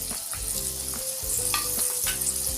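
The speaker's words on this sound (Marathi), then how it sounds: "त्यानंतर आता आपण आमसूल तळून घेऊ." Kokum (amsul) frying in hot oil while making bhajke pohe chiwda, a steady close crackling sizzle with occasional stirring scrapes in the pan, no voices.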